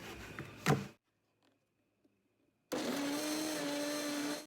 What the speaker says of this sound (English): And I'm gonna blend it everything.